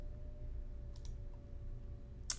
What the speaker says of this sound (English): If I double click on it